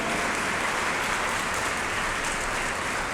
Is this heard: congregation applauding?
yes